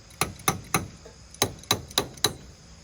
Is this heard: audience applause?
no